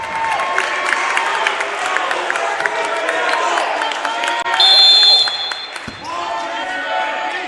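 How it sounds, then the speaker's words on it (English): Cheering sections at a Londonderry vs Bishop Guertin high school basketball playoff semifinal, a loud crowd roar with claps, squeaks and ball bounces under a commentator's voice. "both cheering sections getting loud"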